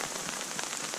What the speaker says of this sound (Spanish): Mira cómo graniza.